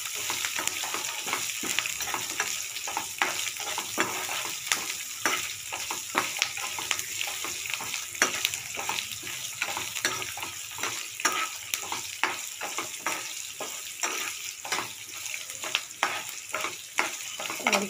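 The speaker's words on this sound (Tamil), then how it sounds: "கருவேப்பிலை, கேரட் எல்லாத்தையும் சேர்த்துக்கோங்க. சேர்த்து நல்லா வதக்கிடுங்க." Curry leaves and carrot sautéing in a hot pan for a beetroot-carrot chutney, a steady loud sizzle of frying broken by repeated scrapes and stirs of a spoon, with no voices.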